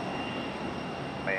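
An arriving airliner at Raleigh-Durham airport gives a steady, distant jet roar over outdoor background noise.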